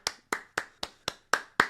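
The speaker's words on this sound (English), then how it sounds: "Let's give a round of applause to me for suffering through that" Seven slow, evenly spaced claps from a single person, crisp and close, with no crowd or talk around them.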